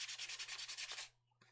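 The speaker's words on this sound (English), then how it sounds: "I've got the shape, a little bit of sanding, I'll have that done." Sandpaper rubs by hand over a wooden nativity doll in quick, even back-and-forth strokes, close and crisp, then stops, leaving a low steady hum before one last brief scrape.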